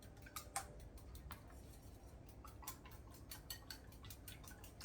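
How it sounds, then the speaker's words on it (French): A spoon whisks omelette eggs in a bowl, giving quiet, quick ticking clinks against the sides in an irregular rhythm, close and soft, with no voice. "On mélange. Regardez, la cuillère magique fait un super bon mélange."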